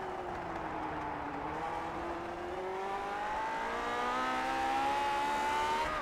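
Lotus 49 race cars on the Nordschleife in iRacing, a steady engine whine that climbs in pitch as it accelerates, heard alone at moderate level over six seconds.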